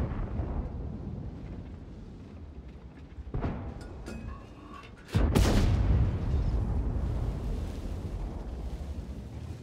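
A tank cannon fires shells in World of Tanks: one sharp blast around the middle, then a louder, heavier boom that rumbles and lingers over a steady bed of game noise.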